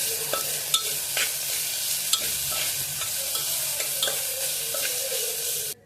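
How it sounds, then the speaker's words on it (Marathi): Pumpkin pieces sautéing with salt in a hot pan for a green-masala bhaji, a steady close sizzle broken by scraping stirs of the spatula, with no voices. "हे थोडंसं मीठ टाकून परतून घेते मी"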